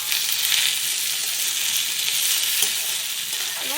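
Ridge gourd, potato, tomato and green chili frying in a pan while being stirred, a loud continuous hiss and sizzle with occasional scraping strokes of the spatula, close up and without speech.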